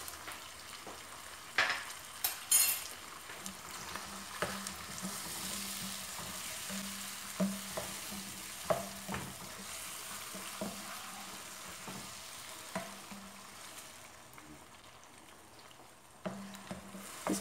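Garlic, ginger and green chilies frying in a pot for chicken biryani, giving a soft continuous sizzle under periodic stirring knocks and scrapes, fairly quiet and close.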